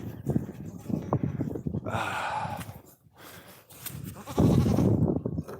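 Farm goats bleat in short nasal calls, close and fairly loud, with a longer bleat in the middle and another toward the end, amid rustling and some quiet background sound.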